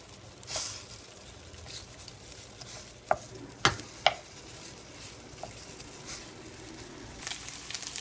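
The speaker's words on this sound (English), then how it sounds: "I'm going to start cooking the longaniza." Longaniza sausage cooks in a pan with a little water instead of oil, a quiet sizzle and bubbling with occasional clicks and scrapes of a utensil stirring, close and fairly faint.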